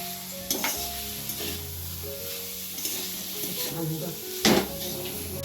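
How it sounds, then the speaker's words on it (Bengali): Diced potato and onion sizzle steadily in a hot frying pan as a spoon stirs them through, with several louder scraping strokes against the pan and a faint tonal hum underneath. "আলুটা আর পেঁয়াজটা দিয়ে একটু নাড়াচাড়া করে"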